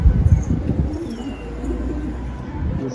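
A domestic pigeon coos softly in a loft, a low, muffled rolling call repeated over a quiet background with faint rustling.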